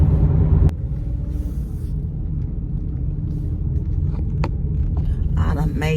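A car engine rumbles steadily as the vehicle is driven to a mechanic's house, a continuous low drone with a few faint clicks and knocks over it, and no talking.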